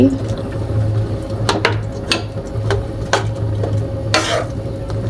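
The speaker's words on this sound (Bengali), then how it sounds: "তো ঘিয়ের ভিতরে এভাবে নাড়াচাড়া দিয়ে নিতে হবে" Chickpea halwa being stirred in ghee in a pan, with a spatula scraping and clacking in several short, irregular strokes over a steady background hum.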